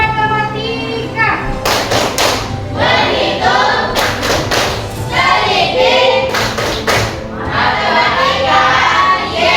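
Tenth-grade students in a mathematics classroom perform the 'tepuk matematika' clapping game, bursts of loud rhythmic group claps alternating with chanted words and a teacher's voice, close and lively.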